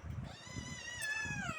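A cat, a guest in the house, lets out one long drawn-out meow that rises and then falls, close and clear, with soft low thumps beneath it.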